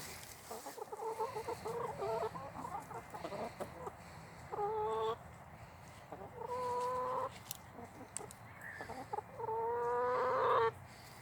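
Chickens cluck and call in short, repeated bursts while pecking at eggs outdoors in winter, several birds close by with brief quiet gaps between their outbursts.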